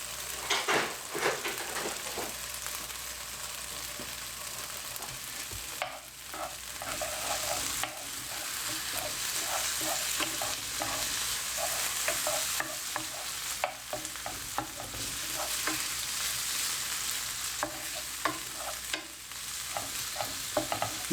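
Garlic is stirred in a hot pan with a wooden spoon, repeated scraping and knocking strokes over a steady sizzle, close and moderately loud, with no voices throughout.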